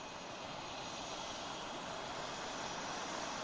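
Steady, even roar of a jet aircraft taxiing back after a flight, a continuous broadband engine rush without pauses or speech.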